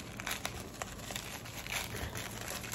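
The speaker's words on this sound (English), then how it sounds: "I got this like sticky thing that people are now like buying for their phones, so we are doing unboxing." Plastic packaging from an AliExpress order crinkles and rustles close by during unboxing, a steady crackling texture with small sharp crackles and no voices.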